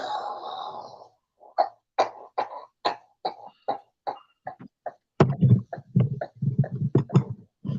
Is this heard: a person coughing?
yes